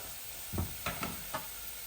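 Garlic fries steadily in hot oil in a Bengali home kitchen, giving a close, even sizzle. A few soft knocks and stirring sounds break through the hiss, with no voices.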